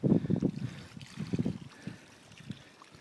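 Spring water gurgles and sputters from the end of a hose fed by a farm cistern, in uneven close-up bursts that taper to softer trickling.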